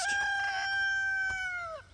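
A rooster crows once nearby in a garden where chickens and geese roam, a single long, loud call that tapers off at the end.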